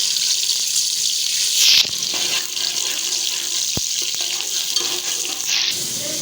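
Onions frying in hot oil give a steady, loud hiss and crackle that carries throughout, with a couple of brief clinks partway through.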